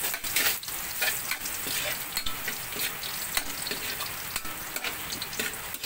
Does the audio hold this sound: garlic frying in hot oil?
yes